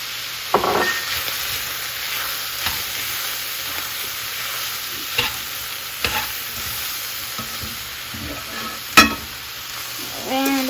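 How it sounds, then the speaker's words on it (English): Flour being stirred into shepherd's pie filling in a hot pan, a steady frying sizzle with scraping stirs and a few sharp utensil knocks against the pan. "Now I'm going to add flour and stir it all around."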